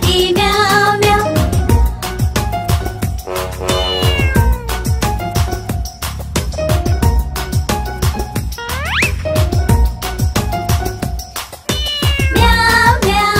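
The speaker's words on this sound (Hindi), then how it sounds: "बिल्ली करती म्याऊ म्याऊ" A cat meowing repeatedly in a Hindi nursery rhyme, a series of loud, close, drawn-out mews and rising wails that follow one another over an accompanying musical backing with no spoken words.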